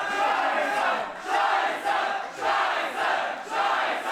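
A Berlin wrestling crowd at a GWF show jeers wrestler Pascal Spalter in a rhythmic chant, swelling in about five repeated surges, loud and massed with no single voice standing out.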